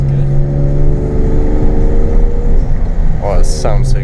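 A BMW E36 with a swapped 2.8-litre M52 straight-six and straight-pipe exhaust, heard from inside the car as a loud, droning engine note with a steady tonal hum that rises and shifts near the end.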